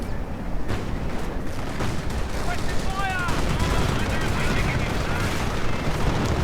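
Video game gunfire in a WWII strategy match, a StuG 42 assault gun shooting at tanks amid broad battle noise, with dense rumbling shots and rattling fire layered continuously under the action.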